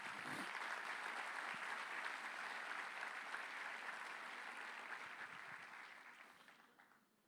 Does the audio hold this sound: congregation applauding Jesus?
yes